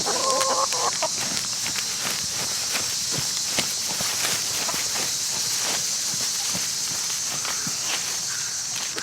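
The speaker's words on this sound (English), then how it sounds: "the chickens are going to absolutely love it." Chickens cluck softly in a backyard garden, their calls scattered through steady background noise, mixed with footsteps moving about nearby.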